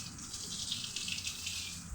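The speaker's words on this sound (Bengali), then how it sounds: "বাথরুমে গিয়ে গিয়ে জল ঘাটছে" A pet dog named Tom splashes about in water in a bathroom, giving a steady, close rush of running and sloshing water that holds at an even level throughout with no voices.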